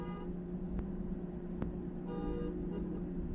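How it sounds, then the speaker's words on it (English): A car horn honks from a distance in two or three short toots over steady background hum, with no talking. "What's the honking?"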